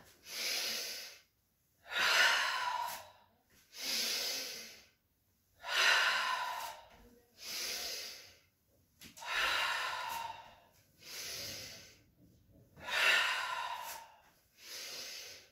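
Slow, deep breaths in and out during a yoga sun salutation, close and airy, with seven or eight evenly paced breath cycles separated by short pauses and no talking.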